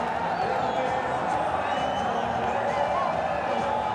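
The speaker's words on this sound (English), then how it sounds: "the crowd are delirious" A packed cricket stadium crowd at a Bangladesh vs Pakistan T20 international roars and cheers after a catch, a dense, continuous wall of noise that stays loud throughout.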